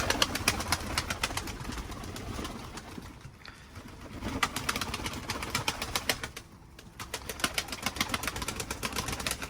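Pigeons cooing and fluttering nearby on a humid, rainy day, with wings flapping in bursts and a low engine hum in the background; no talking.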